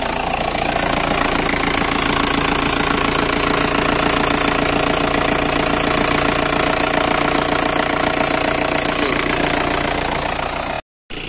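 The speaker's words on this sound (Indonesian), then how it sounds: "Suaranya kering. Oke, mobil kengkeng dan sehat ya. Kering mesin-mesinnya." A 2002 Isuzu Panther LS diesel engine idles steadily and loudly up close, with a dry, even knocking clatter throughout and a brief cut near the end.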